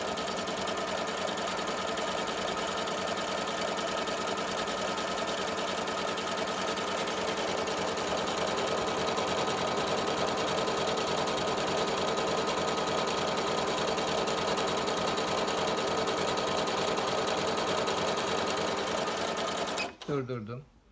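A Tugi Premio 73 sewing machine runs a thick corded stitch, humming at a fast, even mechanical rate for about twenty seconds before winding down and stopping near the end.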